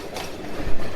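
A mixed train on Cuba's eastern line rolls past, a loud close rumble with rhythmic clattering of wheels over rail joints.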